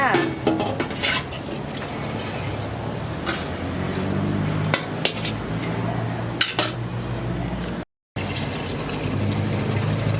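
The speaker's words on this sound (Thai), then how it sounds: "เดี๋ยวเราจะตักไปพักในน้ำเย็นเลยค่ะ" Mala-marinated pork large intestine is ladled from the pot into cold water, with clattering metal utensils, splashing and running water close up, a continuous busy kitchen wash of sound with a brief dropout near the end.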